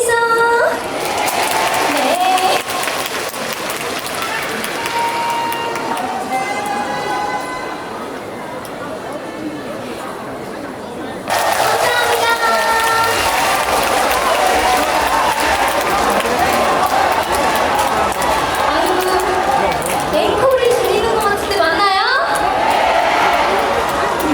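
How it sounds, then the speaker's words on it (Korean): A large outdoor crowd claps and cheers at a persimmon festival concert in Cheongdo, with steady, dense applause that dips briefly midway, then swells back up, mixed with scattered shouts and voices throughout. "박수 많이 쳐주세요"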